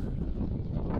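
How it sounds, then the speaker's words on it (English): Steady wind blowing hard across the microphone at the top of a castle fortress on Ireland's Atlantic coast, a dense low rumble that fills the whole moment without any voices. "Now it's windy."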